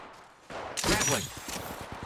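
Gunfire erupts in Apex Legends Mobile, a short burst of sharp shots that begins about midway and stays loud and close to the end, with a few rapid cracks and no talk.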